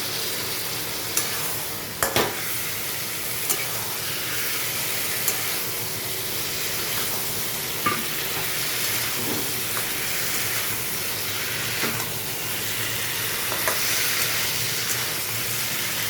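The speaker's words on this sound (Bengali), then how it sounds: "এখানে দিয়ে দিচ্ছি পটল আলু ভাজাটা।" Fried pointed gourd and potato pieces stirred into a sizzling spice pan give a steady close hiss of frying, broken by several sharp scrapes and clinks of a spatula against the pan.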